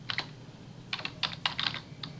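Typing on a computer keyboard in a Windows setup, several quick, close key clicks in short irregular bursts with pauses between them.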